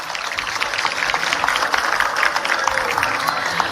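Applause from an audience at an award ceremony during a state trade fair event in Delhi, a steady dense patter of clapping hands continuing evenly throughout, moderately loud with a wash of crowd noise.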